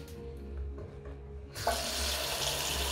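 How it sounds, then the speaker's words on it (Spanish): After a quiet start with faint clinks, water suddenly gushes from a tap fed by a newly installed electric water heater and runs steadily, a loud hissing stream filling the rest. "Ahora vamos a comprobar a ver si sale agua por el grifo."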